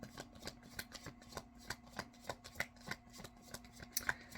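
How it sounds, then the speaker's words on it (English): Tarot cards being shuffled and drawn by hand, a run of quick soft riffling flicks and card snaps in an irregular rhythm, close and fairly quiet over a low steady hum, with no talking. "let me get a couple more cards"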